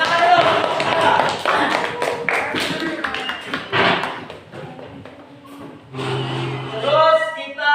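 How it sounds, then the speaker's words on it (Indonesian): A classroom of students claps for a student group, a fast burst of close hand taps and slaps that thins out after a few seconds while a teacher and students talk over it. "tepuk tangan untuk kelompok peraba ya"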